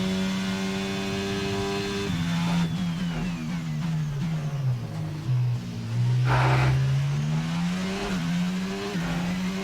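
An F1 car in the F1 22 video game at the Canadian GP accelerates with a loud, continuous engine whine that rises and dips in pitch as it climbs through the revs. No voices are heard.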